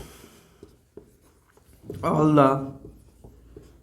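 Writing during a chemistry lecture on atomic structure gives faint, scattered taps and scratches, and a teacher speaks briefly partway through.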